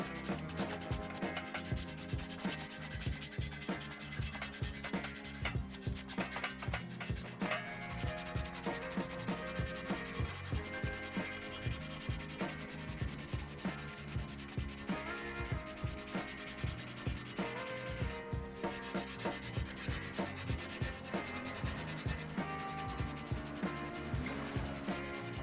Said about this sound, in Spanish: nos cogemos un trocito de lija y con paciencia le vamos dando